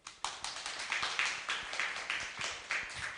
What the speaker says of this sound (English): Please give a big round of applause to Pramodha Weerasekara